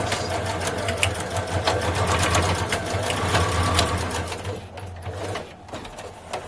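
A sewing machine runs steadily while stitching and securing the final corners of a fabric face mask, a continuous close motor whir with rapid needle clatter that slows near the end.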